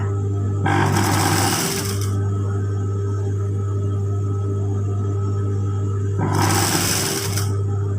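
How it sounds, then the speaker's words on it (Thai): Two loud bursts of a sewing machine running, each about a second and a half, stitching along folded fabric close to the edge, with a steady low motor hum between them. "เย็บวนไปจนถึงอีกฝั่งอะคะ"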